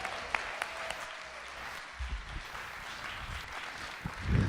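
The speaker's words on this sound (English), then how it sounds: "Can we give President Schmoke another hand clap?" Audience applause at an award ceremony, a steady wash of many hands clapping in a hall, fairly quiet and continuous, with a few louder bumps near the end.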